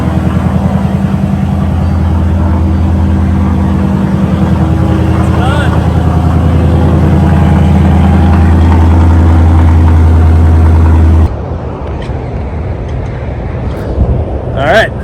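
A Ford Mustang drift car's engine idles loudly and steadily up close, with a low rumble throughout, then cuts off near eleven seconds, leaving quieter background noise and faint voices.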